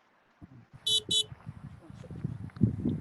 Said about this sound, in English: He's getting honked at the moment.